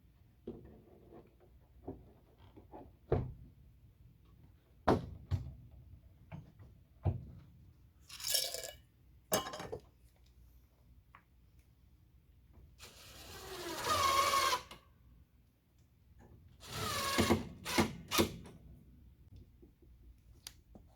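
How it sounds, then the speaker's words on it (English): Screws being driven into the lid hinges of a spinet piano during a refurbishment, heard as scattered sharp clicks and knocks with a few longer scraping and grinding bursts, close and fairly quiet. "Put the last screw in the hinges of the lid."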